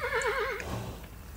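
A horse in the video game Kingdom New Lands lets out a loud, close whinny with a wavering, trembling pitch that lasts about half a second, then fades into low background game sounds.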